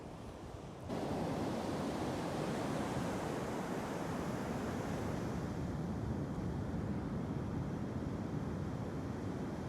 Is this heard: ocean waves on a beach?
yes